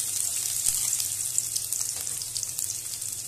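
Finely chopped ginger and garlic sizzle in hot oil for a South Indian Chettinad crab curry tempering, a dense, steady crackling fry heard up close without talk.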